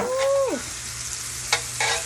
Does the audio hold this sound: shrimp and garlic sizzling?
yes